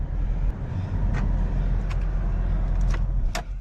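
The engine of a 2008 Dodge Charger R/T idles steadily with a low, even rumble throughout, broken by a few faint clicks and taps nearby.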